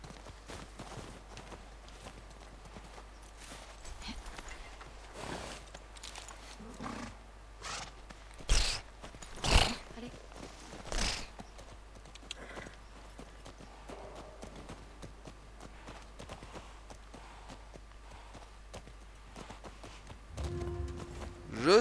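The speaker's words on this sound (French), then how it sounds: "on reprend nos chevaux" Horses' hooves clip-clop in the video game The Last of Us Part 2, a faint, irregular patter of steps with a few louder thuds and game ambience underneath.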